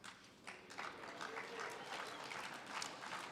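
An audience applauding at a landscaping awards ceremony, dense sustained clapping from a large room that starts quickly and holds at an even level, moderately distant.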